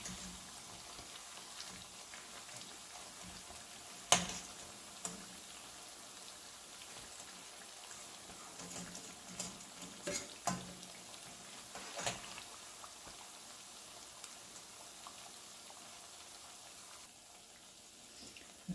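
Spicy Chinese mixed vegetable fritters fry in hot oil with a quiet, steady bubbling hiss broken by scattered small pops and crackles, with no talking.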